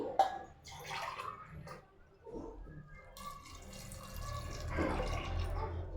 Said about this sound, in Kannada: ನೀರು ಹಾಕ್ಕೋತಾ ಇದ್ದೀನಿ